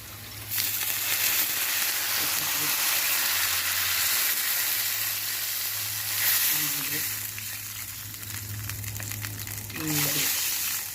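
Steady sizzling of onion and semolina frying in a pan, with occasional stirring scrapes and brief bursts, fairly close and continuous throughout.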